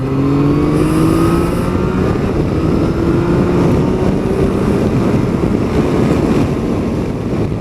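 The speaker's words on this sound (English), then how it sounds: "Now I'm going to open it up a little bit, see what the power's like." A Yamaha Tracer 900 GT motorcycle carrying a pillion passenger opens up its throttle: an engine drone rises gradually in pitch, partly buried under heavy, constant wind buffeting on the rider's mic.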